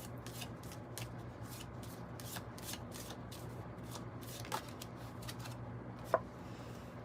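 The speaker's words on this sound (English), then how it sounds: "Okay, for our Geminis, I'll use the Circle of Life Tarot." Tarot cards from the Circle of Life deck are shuffled in a steady run of crisp, papery riffles and slides, repeating quickly at close range and moderate volume, with a sharper tap near the end.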